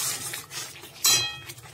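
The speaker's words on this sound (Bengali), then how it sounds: "দিয়ে ভালো করে মশলাটা কষিয়ে নিচ্ছি।" A spice paste of tomato, green chilli, ginger and garlic is stirred in hot oil in a pan, with scraping and clinking of a utensil against the metal and one sharper clank near the end.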